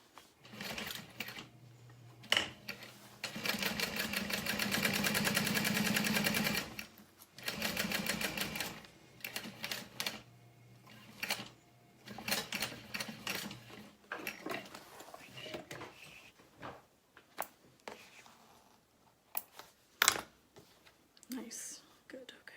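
A sewing machine with a size 20 needle stitches leather at stitch length 5 for a clutch wallet. It runs in close bursts of rapid mechanical stitching, separated by pauses filled with soft, quiet talk.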